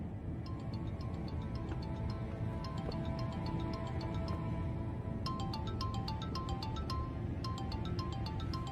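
A phone ringtone sounds for an incoming call, a repeating electronic melody of bright tones in steady bursts with brief pauses between them, heard over a constant background hum.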